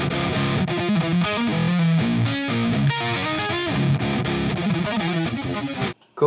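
Distorted electric guitar plays a riff at full speed, a dense stream of gritty notes that cuts off abruptly near the end, loud and close with nobody talking.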